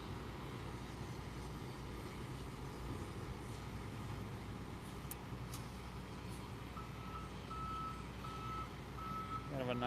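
A truck reverses near the SpaceX Starbase tank farm at Boca Chica, Texas, its backup alarm beeping in a steady, evenly spaced series over continuous low engine and traffic rumble, moderately distant.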